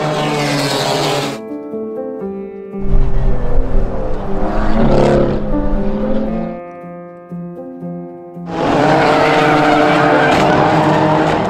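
Race cars at the 2019 China GT round in Ningbo, loud engines roaring past one after another with rising and falling pitch, revving hard, then a brief lull before another car screams by.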